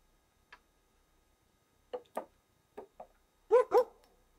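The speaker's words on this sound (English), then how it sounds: "now the neighbour's dog comes out and starts barking." A neighbour's dog barks outdoors, a single early yap followed by scattered pairs of sharp barks, the last two loudest. The dog sounds a short distance away, with near silence between the barks.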